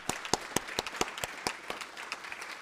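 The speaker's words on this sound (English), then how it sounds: "Give yourselves a round of applause." Audience applause at an evening event, a thin, sparse patter of separate handclaps with distinct sharp claps standing out, fairly close, with no talking over it.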